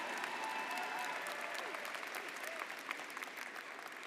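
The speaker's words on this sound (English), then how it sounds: "This is a good time for cheering." Convocation audience at Syracuse University School of Education clapping and cheering, a broad wash of applause with scattered whoops and voices, moderately distant and fairly even in level.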